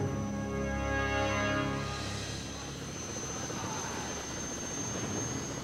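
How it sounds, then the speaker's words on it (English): Rescue helicopter lifting off from the deck of the aircraft carrier Independence, a steady loud rotor and turbine roar with harmonic whine that eases into a broad rushing drone as it climbs away. "A rescue helicopter eases into the air, circling the carrier"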